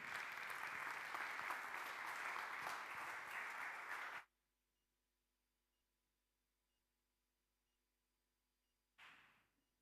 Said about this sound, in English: So please, applause to Hanna Schreiber.